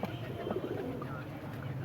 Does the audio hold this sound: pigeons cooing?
yes